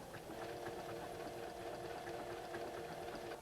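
A Tacony Ellure sewing machine whirs at a low, steady level while its hand wheel is turned manually to check needle clearance, a continuous mechanical hum with faint rhythmic ticking throughout and no voices.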